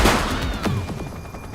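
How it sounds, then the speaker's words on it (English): Gunfire during a police shootout after a bank robbery in The Precinct, a quick sequence of sharp shots with echoing tails, fairly loud and close. "We're downtown where police are engaged in a fierce shootout following yet another bank robbery."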